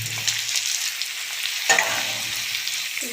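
Meat curry ingredients fry in a pan with a steady bright sizzle, a brief clatter of stirring partway through, close and fairly quiet with no talk.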